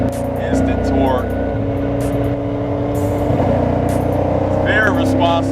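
A 750 RWHP C6 Corvette engine revs in a loud, close, sustained burble that rises and falls, with someone talking over it.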